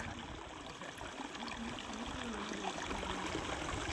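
Water steadily draining through a cut in a small pond's bank during fishing, a continuous close rushing trickle with no pauses.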